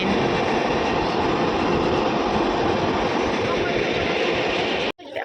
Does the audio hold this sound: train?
yes